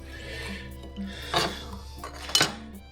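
A saucepan is handled while cooking chicken, with two sharp metallic clanks of cookware against a hard surface amid quieter scraping and low background hum.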